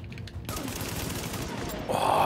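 Gunfire in The Division video game erupts as a dense, sustained burst of rapid shots after a quiet start, loud and crackling, rising further near the end.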